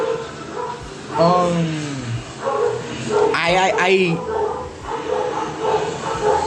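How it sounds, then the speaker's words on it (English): Dogs bark and whimper, a few close barks and a high whining cry, while someone talks over them. "I hate when dogs do this."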